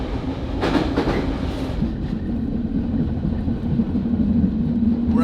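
A freight train rolls past on nearby tracks, a steady loud rumble with rhythmic clickety-clack of wagons over rail joints, heavy and continuous throughout.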